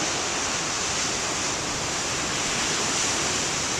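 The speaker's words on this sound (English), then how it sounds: "Come on, give me more of those waves." Big ocean waves crashing on an October morning in the rain, a dense continuous roar of surf and spray that stays loud and steady throughout, with no voices.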